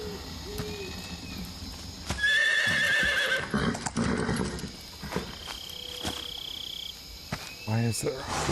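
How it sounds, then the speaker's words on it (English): A horse in Metal Gear Solid 3 neighs several times across the stretch, with hoof clops and insect chirps around it, while a voice speaks over part of it. "Why is there a horse here?"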